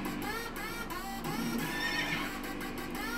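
Horses neigh and whinny repeatedly in the background of a movie trailer, with clip-clop hooves passing and a steady underlying sound bed, moderately loud and without talk.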